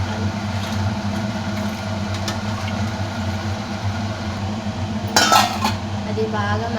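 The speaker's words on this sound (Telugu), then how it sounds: "ఆ మిశ్రమాన్ని మనం కలుపుకోవాలి." Spoon stirring vegetable soup in a pot after water is added; a steady low kitchen hum, then a brief burst of metallic clinking near the end.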